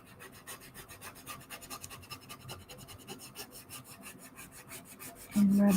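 A transfer tool is rubbed back and forth over a stencil transfer in quick, rhythmic scratchy strokes, close and fairly quiet, ending in a brief louder hum.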